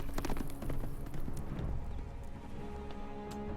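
Horse hooves clip-clopping at a run in the Game of Thrones video game, a steady close rhythm of hoofbeats over a dense background of game sound for a few seconds.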